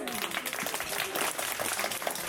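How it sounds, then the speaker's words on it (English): Guests at a wedding in a traditional hanok clap for the groom's friend, a dense, moderately loud patter of hands that keeps up evenly throughout with some voices mixed in. "please give him a big round of applause"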